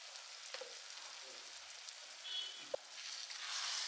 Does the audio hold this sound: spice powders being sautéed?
yes